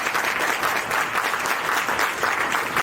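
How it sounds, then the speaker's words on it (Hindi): An audience at an Independence Day school event gives loud, sustained applause, a dense unbroken wash of clapping from start to finish. "जोरदार तालियों से स्वागत करिए।"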